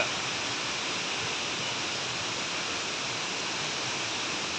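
The Aintharuvi waterfall at Courtallam: a steady, dense roar of falling water that stays constant throughout, with no voices.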